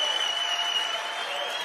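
Cheering and applause as a sound effect: a steady, dense wash of clapping and crowd noise that holds at an even level with no single voice standing out.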